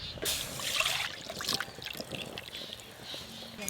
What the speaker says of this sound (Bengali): দুধটা আবার আমি কড়াতে ঢেলে দেবো।